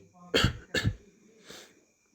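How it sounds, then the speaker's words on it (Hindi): Two quick coughs close together, then a fainter third cough a moment later, close up with no other sound. "तुम भी खांस रहे हो मम्मी"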